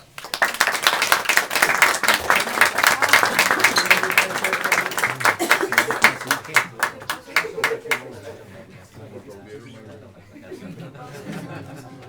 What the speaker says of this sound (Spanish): un aplauso para el cacique Mochacá